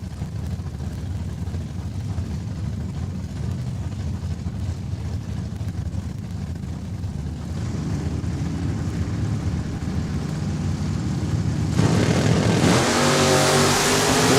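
A 1968 Dodge Charger and a Plymouth Duster launch side by side at a drag strip in Saskatoon, Saskatchewan: loud, sustained engine roar that swells and grows harsher toward the end as the cars accelerate hard.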